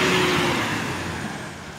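A Harapan Jaya patas bus pulls away toward the parking area at Purabaya bus terminal in Surabaya at night, its engine loud and close in a steady rumble that fades slightly as it moves off.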